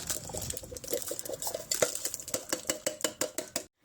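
Dark red kidney beans being added to a crockpot of taco chili, wet clattering and sloshing thuds in a quick irregular rhythm, close and fairly quiet.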